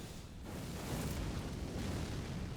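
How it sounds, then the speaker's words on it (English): A large magical explosion from Mesmer's Orb erupts in Elden Ring, a broad rumbling blast that swells and then sustains as a dense, roaring wash. "but then the explosion is a lot larger"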